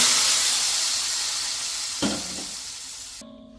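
A hot tempering of onion and curry leaves poured into simmering Kerala fish curry with green kudampuli, giving a loud steady sizzle that slowly fades, with a brief splash partway through before an abrupt cut.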